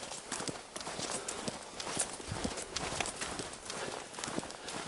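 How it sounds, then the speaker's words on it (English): Horse hooves clop along a forest trail in Florida's Ocala National Forest, faint and irregular, with a soft run of steps moving through quiet surroundings. "that's hoofs. I just heard hoofs."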